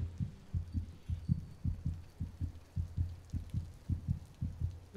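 Heartbeat effect from the horror game Among the Sleep, a steady deep double thump repeating about every half second, close and loud over a low droning hum, with no voices.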